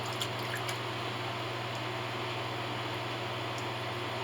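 Steady water running and splashing over a small pacman frog while it is rinsed off, a continuous wash of liquid noise with a few faint drips near the start.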